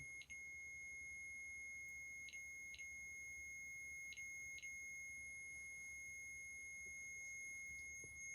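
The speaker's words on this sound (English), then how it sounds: "Temperature alarm." Inside a house, a temperature alarm gives several short, faint, high beeps at irregular intervals over a quiet background hum. No one speaks.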